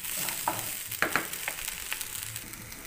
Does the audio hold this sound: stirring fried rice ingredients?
yes